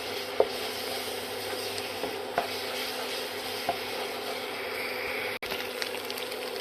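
A thick batter of raw white rice and grated coconut is stirred in a pan, giving a soft, continuous scraping and faint sizzle with a few light spoon taps, steady and close, with no talking.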